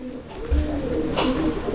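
A pair of large gola pigeons coos softly nearby in a low, murmuring phrase, with a brief thump and a faint rustle of movement, and no talk.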